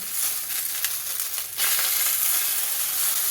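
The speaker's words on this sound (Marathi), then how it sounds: "आणखी एकदा पाच मिनिटांनी आपण झाकण काढून वांगी हलवून घेऊया" Eggplants roasting in a covered pan give off a steady broadband sizzle that grows louder and brighter partway through as the lid comes off, with faint stirring scrapes and no voices.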